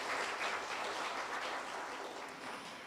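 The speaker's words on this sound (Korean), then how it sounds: "박수 부탁드립니다." An audience applauds steadily at a book concert for Lee Kwang-jae in Wonju: dense, sustained clapping from a crowd that fades slightly toward the end, with no voices over it.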